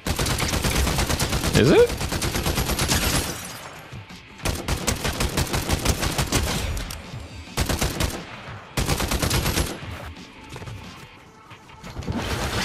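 Loud, close bursts of assault rifle fire in Fortnite, several sustained automatic volleys separated by brief pauses, with a voice speaking briefly over them.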